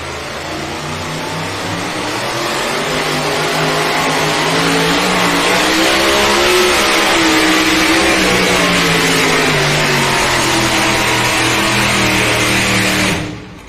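A truck pull engine with long headers roars at full throttle during a Friday night truck and tractor pull in Rock Valley, Iowa, a loud sustained blare that climbs and holds for over ten seconds before cutting off abruptly.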